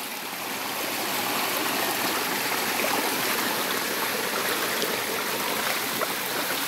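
A creek swollen after repeated rain flows steadily nearby, a continuous loud rushing and gurgling of water with no voices.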